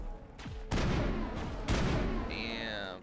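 Geth gunfire in Mass Effect arrives as a few sharp, booming shots with ringing tails, fairly faint overall, followed by a brief high whine.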